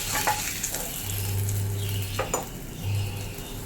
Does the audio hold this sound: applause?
no